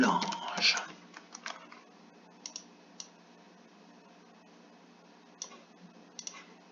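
Text typed on a computer keyboard into Photopea: scattered, faint key clicks in short bursts and single taps, following a louder handling noise at the start.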